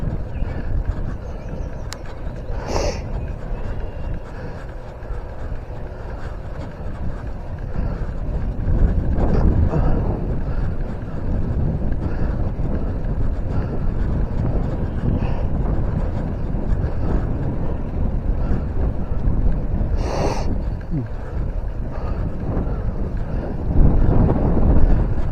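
Strong wind buffets a bike rider out on a prairie trail, a steady, loud roaring rumble against the microphone that persists throughout with no talking.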